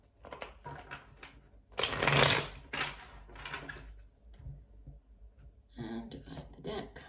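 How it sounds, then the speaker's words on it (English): A deck of tarot cards being shuffled, giving soft bursts of riffling and flicking with one louder flurry near the middle, then lighter card handling, close and quiet. "One last shuffle."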